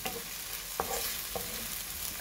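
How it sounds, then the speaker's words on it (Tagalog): Ingredients for a provincial pansit are sautéed in a pan. A steady sizzle runs under a couple of sharp stirring scrapes, close and moderately loud. "Gisahin po natin ito hanggang sa"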